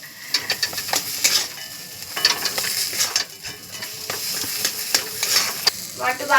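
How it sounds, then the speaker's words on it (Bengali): A spoon stirs a potato filling with chopped coriander in a hot pan for pav bhaji, with quick, repeated scraping strokes over a steady sizzle, loud and near. "আবার একটু নাড়াচাড়া করে নেব"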